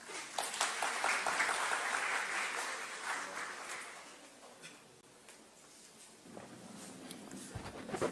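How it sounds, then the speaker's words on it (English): Audience applause at an international symposium on English linguistics and literature in Multan, a dense wash of clapping through the first few seconds that thins and fades to scattered claps and room noise. "A big round of applause for Dr. Shahid Nawaz."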